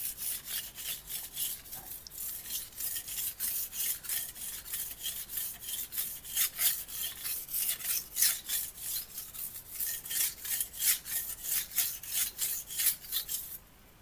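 Knife blade rasping steadily across a Proyan 240 grit glass whetstone kept wet, a long run of rapid, even strokes, close and moderately loud with no talking, ending abruptly.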